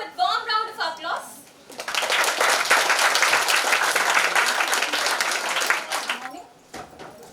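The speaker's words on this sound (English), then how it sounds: "Let's welcome her with a warm round of applause." A warm round of applause rises from an audience at a suicide prevention talk, a dense sustained clapping swell lasting several seconds before fading, with a voice heard briefly before it and near the end.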